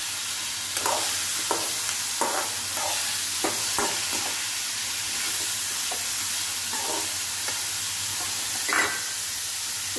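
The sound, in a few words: carrots being stirred and fried in a pan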